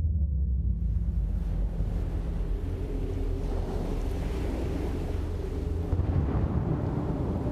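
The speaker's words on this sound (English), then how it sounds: "I saw a dark and stormy ocean." Stormy ocean waves crashing and surging in a continuous loud roar, buffeted by wind, with no voices.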